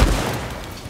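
A single gunshot fired in the video game Deathloop, a loud low-heavy blast at the start that decays quickly into a brief tail.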